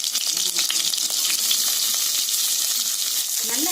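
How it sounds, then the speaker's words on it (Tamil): Onions and curry leaves sizzle and fry in hot oil with mustard seeds for a Tamil vegetable kurma, a steady close crackle throughout with occasional stirring clinks. "கருவேப்பிலை, பெரிய வெங்காயம் போட்டுக்கலாங்க."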